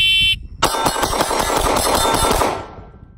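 A Glock 43X compact pistol with a shorter barrel fires ten rounds in a fast, even string at a shooting range, the sharp cracks packed closely together and loud after a brief electronic start beep.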